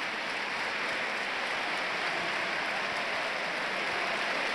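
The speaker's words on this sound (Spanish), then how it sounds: "Le levanta y pide un aplauso para él, después de su público." A boxing crowd in Mieres applauds steadily, a dense, loud, continuous wash of clapping that fills the whole stretch with no pauses.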